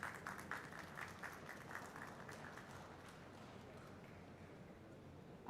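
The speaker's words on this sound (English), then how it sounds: "A huge round of applause" A college innovation-meet audience in Raipur claps in a faint, even, sustained round of applause from a distance, fading slightly toward the end.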